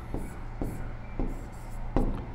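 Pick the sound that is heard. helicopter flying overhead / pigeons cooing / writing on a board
writing on a board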